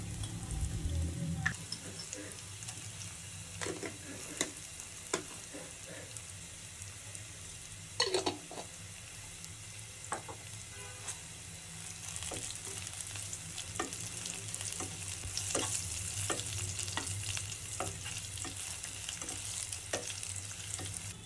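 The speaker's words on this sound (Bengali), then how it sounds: "পেঁয়াজ কিছুটা বাদামি হয়ে আসলে আমরা একে একে এর মধ্যে গোলমরিচ, দারুচিনি এবং শাহি জিরাগুলো ভেজে নেব" Black pepper, cinnamon and caraway frying in oil with browned onions for a duck egg curry, a steady close sizzle with scattered crackles and a few stirring clicks, rising a little louder toward the end.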